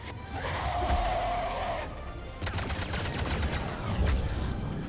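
Rapid gunfire from Mass Effect 3 rattles in dense bursts, strongest in the second half, mixed with combat noise and a brief tonal effect, moderately loud.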